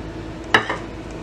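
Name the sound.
cast iron pan handled on the stove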